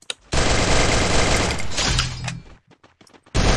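Loud burst of automatic gunfire from the Free Fire video game, a dense sustained volley lasting about two seconds, then a few scattered shots and sounds before another burst starts at the end.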